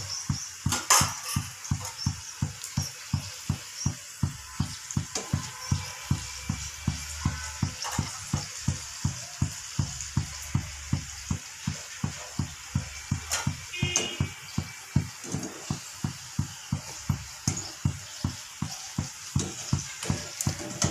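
Garijelu sweets frying in hot oil until browned, with a steady sizzle broken by a dense, regular run of sharp ticks and pops across the whole stretch, close and fairly loud, with no voices.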